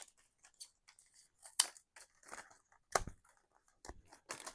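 Scissors snip through paper while an altered Little Golden Book journal is being made, giving scattered short crisp cuts and rustles, close and fairly quiet, with no talking.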